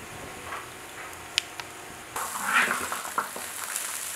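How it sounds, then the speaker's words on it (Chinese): Pig offal stir-fried in a wok with scallion and ginger: a quiet clink or two, then a sudden loud sizzle as ingredients hit the hot oil, with spatula scraping and stirring close by. "要炒下水"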